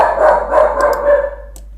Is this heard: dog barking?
yes